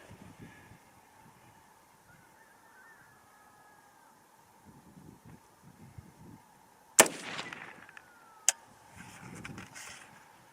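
Two sharp rifle shots from a 6.8 SPC II cartridge in an AR-15 type rifle, fired outdoors at a target: a loud crack at about seven seconds and a second one later, each with a brief echoing tail over quiet background.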